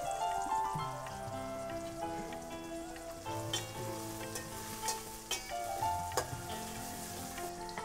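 Vegetables and potato sauté in a hot pan, crackling and sizzling continuously with irregular pops and stirring scrapes, heard close and alone without speech.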